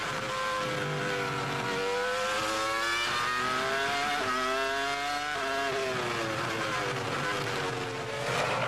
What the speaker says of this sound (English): Great to hear that Ferrari engine working hard.